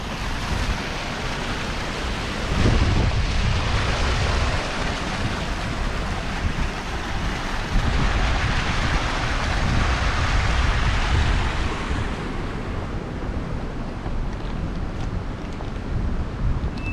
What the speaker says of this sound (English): It's super windy over here for some reason.